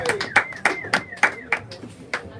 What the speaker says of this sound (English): Give a hand clap for our drummer friend.